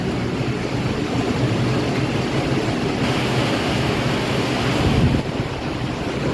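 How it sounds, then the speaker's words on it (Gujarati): Strong wind roars steadily against a microphone outdoors in a rainstorm, with a broad wash of rain and gusting noise throughout and a brief louder gust near the end. "પવન સાથે વરસાદ છે અત્યારે"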